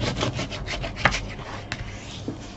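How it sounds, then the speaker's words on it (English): A leather piece has its edge burnished, giving soft, quiet rubbing strokes against a low background hum, with a couple of light taps and no talking. "And we can burnish on the side."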